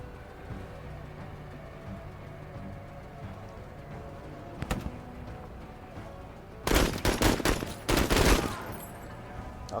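Gunfire in the tactical video game Menace: faint ambient hum, a single sharp shot near the middle, then a loud burst of rapid shots toward the end.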